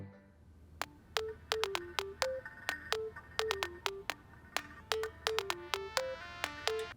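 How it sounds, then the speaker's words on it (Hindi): A telephone rings repeatedly with unanswered electronic ringtone bursts in a steady rapid pattern, moderately loud and close, in a domestic drama scene with no talk over it. "फोन क्यों नहीं उठा रहा है ये?"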